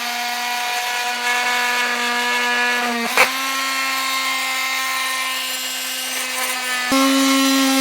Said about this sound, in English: I'm just going to take a multi-tool and get that done